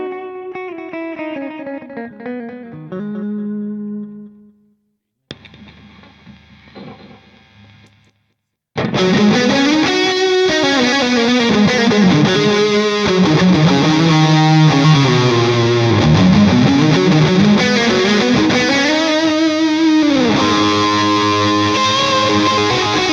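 An electric guitar played through a Seymour Duncan Powerstage 170 amp rings out with delay repeats trailing each note; a clean phrase and a brief pause give way to a loud, sustained, effected passage.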